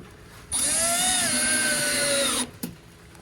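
A power drill driving screws into a raised garden bed planter box whirs loudly for about two seconds at a steady high pitch, then stops, followed by a short click.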